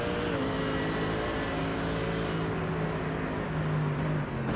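A GT3 race car in a racing video game coasts downhill off the throttle at Road Atlanta, its engine a steady, fairly loud drone with sustained tonal harmonics that hold and drift slightly lower, with no voices.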